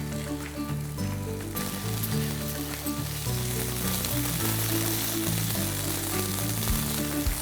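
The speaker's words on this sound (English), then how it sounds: "we just saute this for a couple of minutes" Korma masala with tomato puree sizzles and fries in hot oil, a steady close crackle carrying on throughout with faint rattles over it.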